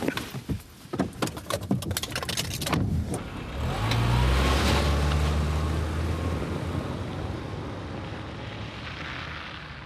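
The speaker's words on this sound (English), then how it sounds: "Now start the car." A car engine cranks with rapid clattering bursts, catches and settles into a loud, steady running rumble at a quarry.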